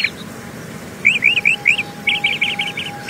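Small birds chirp and tweet in a rapid series of short, bright calls, first spaced then quicker, over a quiet background hum with no talk.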